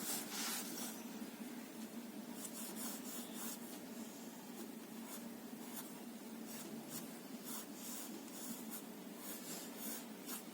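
A pencil eraser rubbing over paper to clean up a simple 3D object drawing, giving a steady scratchy friction with repeated short strokes close by, continuous and alone without any talk.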